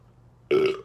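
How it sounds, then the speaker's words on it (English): A single loud burp after dinner, about a third of a second long, rising abruptly out of a quiet indoor room with no talk during it. "I just ate dinner, so that's why I'm burping"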